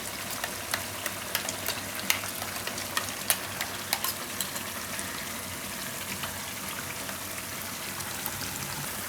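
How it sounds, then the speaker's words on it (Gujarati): Fresh cream (malai) is stirred into a simmering paneer and sweet corn curry, giving a steady crackling sizzle with scattered small taps and scrapes, close and even, with no voices. "હવે આમાં આપણે નાખી દઈએ આ મલાઈ, જે આપણે તાજી મલાઈ રાખી છે એને મિક્સ કરીને."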